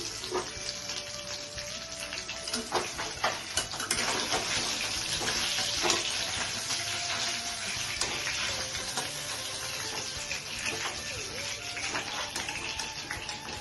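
Katla fish pieces frying in hot oil give a dense, continuous crackling sizzle, close and fairly loud, with small pops and spatters scattered across it.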